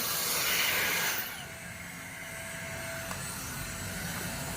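A straight-style hair dryer blows a steady airy hiss. It starts louder and then settles into a softer continuous rush that runs to the end.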